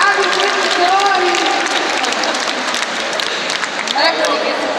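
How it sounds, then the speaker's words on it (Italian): Applause from a school concert audience in Assisi for the parents: a dense burst of clapping and crowd noise lasting several seconds, with voices mixed in. "Un applauso. Bravi genitori."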